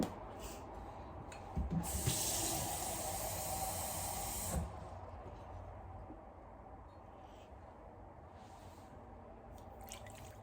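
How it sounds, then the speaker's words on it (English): A short burst of water poured into a pot of sugar for blackberry jam, a bright hissing splash lasting a few seconds, then quiet room tone with faint drips and rustles. "we're going to be adding a 1/2 cup of water"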